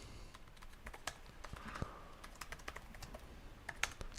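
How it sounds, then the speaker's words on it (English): Keys clack on an Asus Zephyrus G15 laptop keyboard, a quiet, irregular run of light taps with occasional sharper strikes over a low background hiss. "Keyboard feels great to type on."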